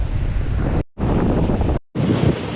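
Sea waves breaking on a beach on the Odisha coast, loud rushing surf mixed with heavy wind buffeting the microphone, cut by two brief silent gaps.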